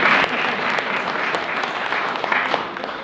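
Sustained hand clapping from an audience gathered for a Kartik Katha religious discourse, fairly loud and dense, with a busy, crackling texture that carries on steadily for the whole stretch.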